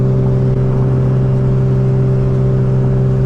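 Boosted Nissan Z engine runs on a dyno, a very loud, steady drone with a strong low hum held at constant revs throughout, recorded up close with no speech.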